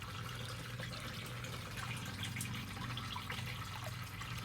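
Water flows into a bucket of a compact flood-and-drain hydroponic system, a faint, steady trickle with small splashes and drips that runs on evenly with no talk.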